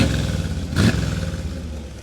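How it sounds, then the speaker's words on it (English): A 1979 Corvette engine idles with a low rumble and gives one brief rev in the middle before settling back. "Rev the engine."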